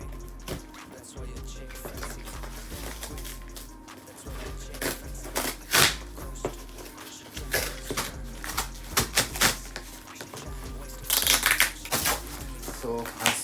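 A KYT Striker helmet parcel unboxed by hand: irregular crinkling, tearing and rustling of packaging in quick bursts, growing busier toward the end, with someone speaking between the handling sounds.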